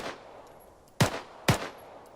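Two sharp gunshots from a military shooter game ring out about half a second apart, loud and punchy over a low, steady background hum.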